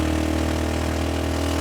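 A Kawasaki 175 motorcycle engine idles steadily and close by, a constant low drone with an even pulse and no voices over it, running a simple pump rig.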